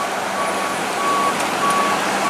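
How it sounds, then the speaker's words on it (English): A tow truck reverses with steady, evenly spaced backup beeps sounding at a moderate distance over broad outdoor street noise. "appears to be the tow truck that is going to be towing it"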